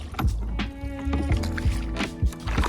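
A rented rowboat paddled across a lake toward an island, its oars splashing and gurgling in a repeating rhythm against the water, close and fairly loud under a steady background hum.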